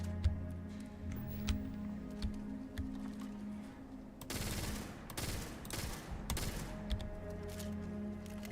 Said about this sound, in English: Is this an open bolt gun?